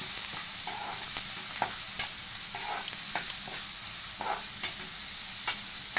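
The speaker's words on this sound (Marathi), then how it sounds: "कांदा व्यवस्थित आपल्याला परतून घ्यायचा आहे।" Onion sautéing in a pan gives a steady sizzle and crackle, broken by repeated scraping taps of a spoon stirring it, close and fairly quiet with no talk.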